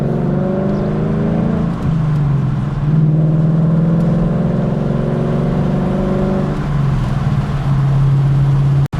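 A Ford Mustang cruising along a paved road through a forest, its engine giving a steady, loud drone from inside the car, with gear-shift dips and one brief rise in revs, and no speech.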